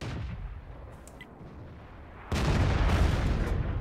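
A single heavy Crusader SP self-propelled artillery gun fires in World of Tanks, one sudden loud boom with a rumbling tail after a quieter stretch of ambient battlefield hum.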